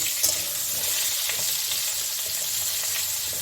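Pieces of sweet potato, potato and raw banana fry in a pan for shukto. The result is a close, steady hiss of sizzling oil with small crackles and a light stir or two, and no talking.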